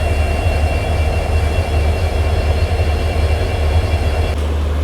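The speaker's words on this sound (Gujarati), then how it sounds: "diesel locomotive" Diesel locomotives of the Poorna Express, an Indian Railways train, rumble loudly and steadily, with a deep engine drone and continuous rolling noise throughout.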